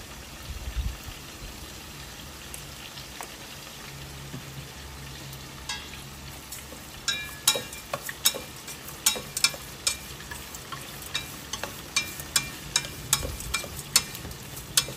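Tuna frying in a pan sizzles steadily as a soft, constant crackle, with sharper pops and spatters growing more frequent in the second half; no talking is heard.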